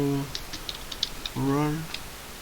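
Keystrokes on a computer keyboard while entering configuration commands for a Cisco layer 2 switch, a scattered series of light, close clicks with someone speaking briefly in the middle.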